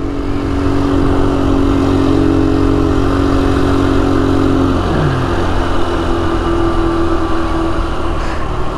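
A motorcycle is ridden close by with a loud, steady, buzzing engine drone that continues throughout. The pitch drops briefly midway as the rider eases off, then settles back to a constant cruising hum.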